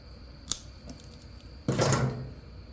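A single sharp snip at about half a second, then a louder crunching cut later on, as wire and protective sleeve are trimmed for a motorcycle fuse box on a Kawasaki KZ650. Nearby and clear, with no talk.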